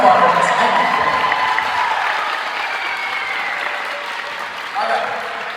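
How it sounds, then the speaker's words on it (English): A roomful of listeners keeps clapping at a band concert award presentation, steady and fairly loud throughout, with some cheering and crowd voices mingled into the applause. "One more applause for Jesse."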